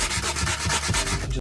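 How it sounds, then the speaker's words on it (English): Hand sanding with 120 grit sandpaper on an old seal, brisk rhythmic back-and-forth rasping strokes, close and steady, with no other sound. "Now I'm just going over with some 120 grit."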